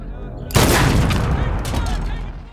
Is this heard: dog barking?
no